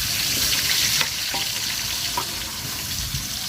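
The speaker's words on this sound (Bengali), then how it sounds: "বাকি মাছগুলো ভাজা নিব।" Bata fish fry in hot oil with a steady, fairly loud sizzle and a few faint clicks from handling the pan, no voices.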